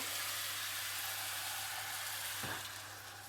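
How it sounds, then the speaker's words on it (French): Steady loud sizzle of ground meat frying in a hot pan as broth is poured in, with a brief splash partway through before the frying noise eases slightly. "maintenant je rajoute mon bouillon"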